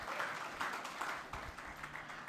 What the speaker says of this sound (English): Round of applause, please, for that excellent presentation.